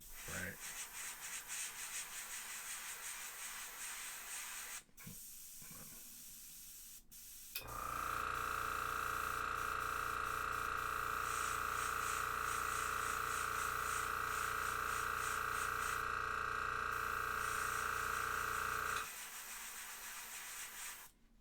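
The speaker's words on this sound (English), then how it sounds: "Alright, we'll spray it this direction, so we'll concentrate more of the gold here." An airbrush sprays gold paint onto a McFarlane Toys Hellblaster Primaris marine figure, a loud steady hiss running unbroken for about ten seconds, framed by quieter short bursts and handling noise before and after.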